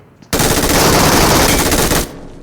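An MG3 machine gun in the shooter game Metro Royale fires one loud, continuous burst of about 1.7 seconds, rapid shots blurring into a dense roar up close, with a brief quiet before and after.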